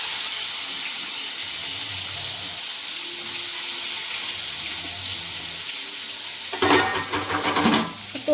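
Onion added to a hot pan for a meat curry fries with a steady, even sizzling hiss, and a burst of louder stirring and spattering comes near the end.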